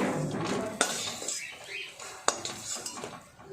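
A metal utensil lifts fried split-pea lentil fritters out of the pan, two sharp clinks against the pan over a soft oil sizzle with faint scraping.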